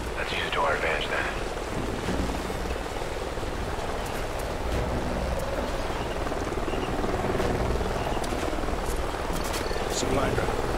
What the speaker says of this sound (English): Sounds like a chopper's up ahead of us.